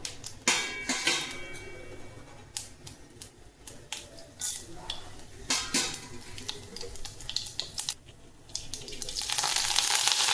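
Urad dal and chana dal crackling in hot oil with mustard seeds, sharp popping spits over a low sizzle that grows louder toward the end, with occasional utensil clinks.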